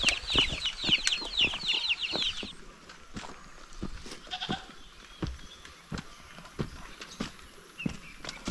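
Goats bleat repeatedly near at hand as they are let out of their pen on a farm, the calls clustered at the start, with scattered hoof knocks and farmyard clatter after.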